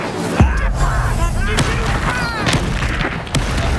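An Incendio fire spell is cast in Hogwarts Legacy amid a busy combat scene. A sharp boom opens it, followed by crackling magical whooshes and more impacts over constant loud game noise.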